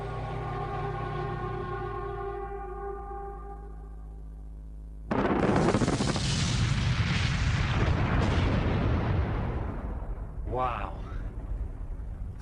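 A mining blast of 180,000 tons of explosives erupts suddenly as a deep, loud roar that rumbles on for several seconds, following a sustained low tonal drone.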